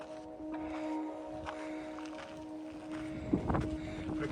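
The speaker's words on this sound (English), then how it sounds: "We're getting some wind out here." Wind gusting on a mountain trail up Strawberry Peak in the San Gabriel Mountains, a continuous rushing noise with a steady tonal whine, brief footstep-like thuds near the end.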